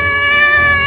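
A cat meows in one sustained, close, tonal cry during a children's superhero story game, loud and alone with no talk over it.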